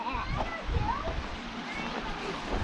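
Water from a waterfall in southern Utah's Cedar Breaks and Brian Head area splashes in a steady, broadband rush. Voices and faint chatter sit over the continuous wash.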